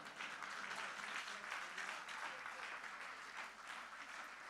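A church congregation claps together in sustained applause, a dense steady patter heard from a distance and fairly quiet, with no clear voice over it.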